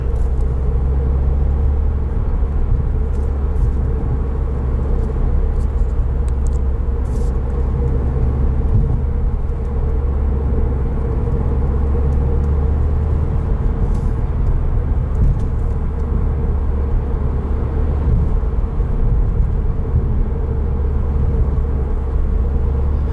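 A 2020 Subaru WRX Limited with a manual gearbox rolls over a bumpy road, heard from inside the cabin as a loud, continuous low rumble of tyres and engine with small jolts and no break.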